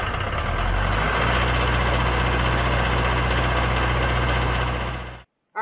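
A Mahindra 4540/4550 tractor's diesel engine chugs steadily at a low, rumbling idle, close and loud, then cuts off abruptly into silence.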